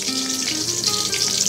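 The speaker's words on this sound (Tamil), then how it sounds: "எண்ணெய் சூடானதும் அதில் 2 பச்சை மிளகா," Two green chillies fry in hot oil in a kadai, giving a close, dense, continuous sizzle.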